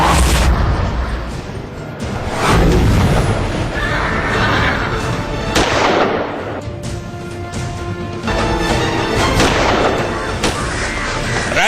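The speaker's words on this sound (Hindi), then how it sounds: "राइफल से निशाना लगा, गोली चली" Rifle shots fired at nilgai during a live hunt ring out as about three sharp, loud booms spaced several seconds apart over a rough, noisy background.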